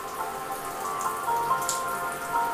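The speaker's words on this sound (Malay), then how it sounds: "Hujan di tengah hari." Steady rain falling at midday, a dense continuous patter of drops hitting a surface, fairly close and even in level throughout with no voices.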